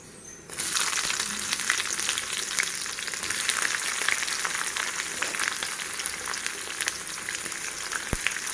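Chopped onions hitting hot oil in a pan for mushroom curry, a sudden loud sizzle that settles into a steady, close crackling fry with small pops.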